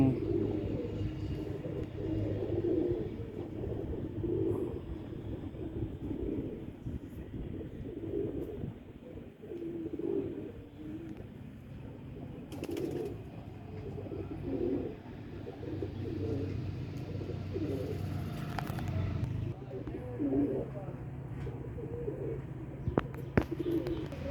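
Racing pigeons coo on an old pigeon keeper's rooftop loft, a low continuous rolling coo repeating through the whole stretch at moderate volume, with faint background noise and a few brief sharp knocks.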